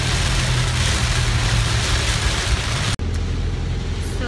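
Heavy rain pounds the outside of a moving car during a morning drive, a dense, steady wash of noise over low road and engine rumble that cuts off sharply near the end and returns slightly quieter.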